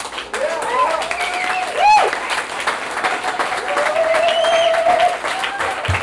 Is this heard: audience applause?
yes